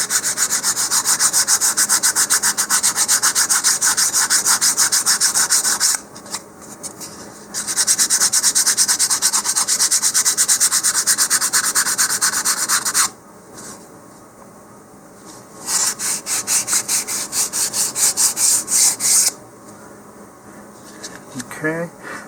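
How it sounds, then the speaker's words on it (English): A balsa model rocket fin being sanded to a knife edge along its leading edge, with loud rhythmic rasping strokes in long bursts separated by short pauses, close up. "by about the time you've got this all sanded, you're going to have a nice knife edge here along the leading edge"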